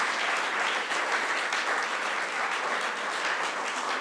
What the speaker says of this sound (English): please give another warm round of applause to our presenters.